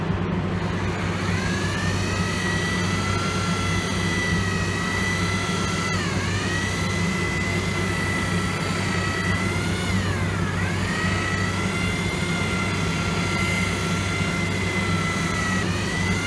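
A rotary polisher works compound into a car's clear coat, holding a loud, continuous close-up whine with a steady hum beneath and two brief dips in pitch as the load shifts, with no talking.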